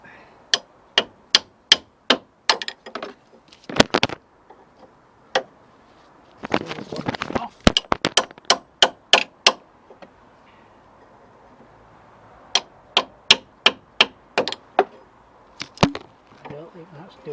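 Sharp metallic hammer blows on a car tie rod end ring out in quick bursts, several strikes in each run with pauses between, close and loud, with faint scraping in the gaps.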